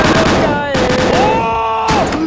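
Rapid gunfire from a horror video game, dense repeated shots forming a loud continuous burst with brief pauses, mixed with game tones and sliding synth sounds.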